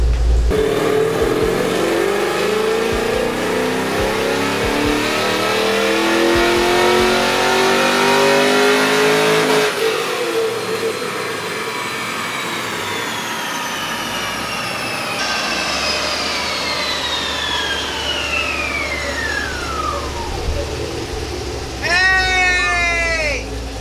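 A V8-swapped Mazda RX-7 FD roars through a dyno pull. The engine climbs steadily in pitch to a loud peak, then falls away and winds down, with another brief rising rev near the end.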